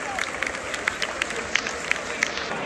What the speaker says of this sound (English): Huge cheers for Paul and Archer